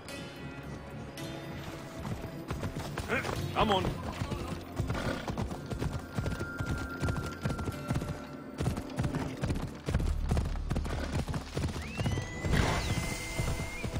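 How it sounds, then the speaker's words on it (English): A horse gallops in the video game Assassin's Creed Odyssey with rapid, steady hoofbeats throughout, a whinny partway through and someone speaking briefly over the game sounds. "Yeah, we'll go by horse."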